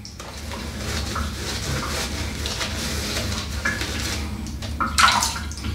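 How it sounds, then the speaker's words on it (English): Leaking bathroom sink with water trickling and splashing steadily during a wet shave, a continuous close wash of running water with a few brighter drips and clinks near the end. "Yeah, sink's leaking."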